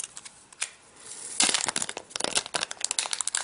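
Plastic wrap crinkles as it is peeled off an aluminum Apple TV remote, soft rustles at first, then a dense burst of close, sharp crackling.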